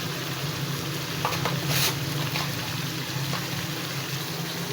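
Whole cumin seeds with black cardamom, cinnamon pieces and cloves frying in a pan, giving a steady low sizzle with a few soft stirring scrapes and clinks.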